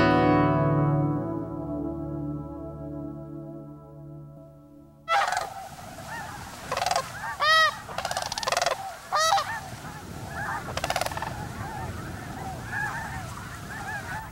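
Sandhill Cranes call in flight over the winter wetlands of Bosque del Apache, several rolling, trumpeting calls at middle distance following a sustained musical tone.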